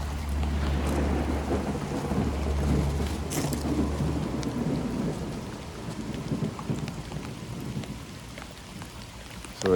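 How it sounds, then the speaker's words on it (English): Rain falls steadily on a wildflower pond while low thunder rolls, loud at first then fading, with a sharp crack near the end. "it sounds like a thunderstorm is starting to come to the wildflower pond today"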